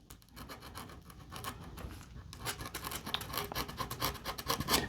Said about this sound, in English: We're just going to round those kind of by hand with sandpaper.